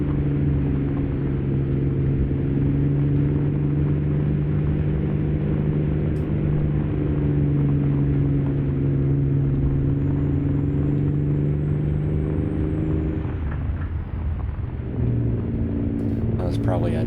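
Heavy truck engine in American Truck Simulator, a Peterbilt 389 pulling a Wade step-deck trailer, droning loud and steady before dropping and rising again through a gear shift. Someone talks over it.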